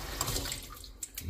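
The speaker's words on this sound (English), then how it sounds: "Let me wash my hands." Water runs from a tap as hands are washed, a brief, fairly loud and steady splash with no voices.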